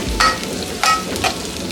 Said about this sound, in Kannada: ನೋಡಿ, ಈರುಳ್ಳಿ ಚೆನ್ನಾಗಿ ಫ್ರೈ ಆಗಿದೆ, ಲೈಟಾಗಿ ಕಲರ್ ಕೂಡ ಚೇಂಜ್ ಆಗಿದೆ